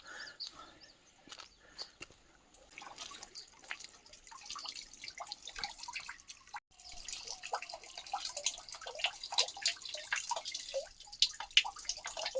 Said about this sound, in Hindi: लेकिन ये ऊपर से भी पानी आ रहा है।